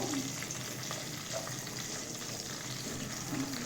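Fish frying in a pan with green tomato: a steady, even sizzle of hot oil runs unbroken throughout, close and moderately loud, with no talking.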